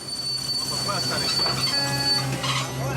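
Train wheels squeal steadily as the Irondale, a freight train on a Congo railway, brakes on the tracks, with sustained high-pitched metallic whines layered over a low rumble.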